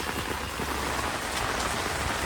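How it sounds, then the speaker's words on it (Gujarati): Heavy rain pouring down steadily at a beach area in Diu, a dense, continuous hiss of water hitting surfaces close by, with no voices. "વરસાદ જો પાછો એકદમ ફૂલ શરૂ થઈ ગયો છે"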